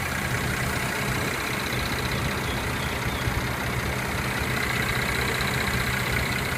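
A 2014 Mercedes-Benz C350 4MATIC coupe idling, a steady dense engine hum that stays even and constant throughout with no voices.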